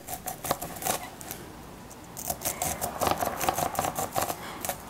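A knife slicing kernels off a corn cob laid flat on a cutting board, heard as a run of crisp, quick cutting and snapping sounds in irregular bursts, close and fairly clear, with no talk.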